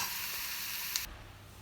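Cumin seeds frying in hot oil for a dal tadka, a soft steady sizzle that drops to a quieter hiss partway through.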